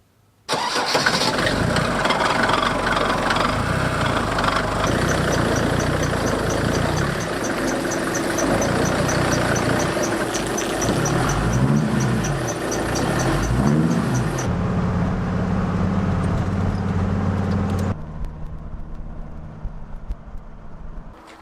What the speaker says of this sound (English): this road's quite busy for this little single track, so there's a van coming